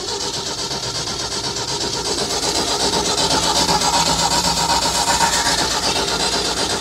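A 1990s tracked auger machine, parked for over ten years, has its engine started and running in a loud, continuous, rough mechanical roar that holds steady and builds slightly, close by.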